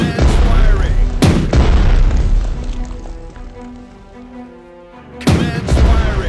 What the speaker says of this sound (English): Fire! Rapid and continuous. Commence firing.